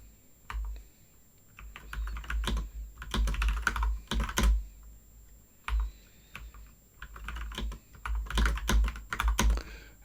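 Quick bursts of keystrokes clatter on a computer keyboard at close range, coming in uneven runs with short pauses between them.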